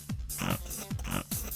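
A pig oinks and grunts repeatedly in quick, rhythmic snorts, close and clear with no talking.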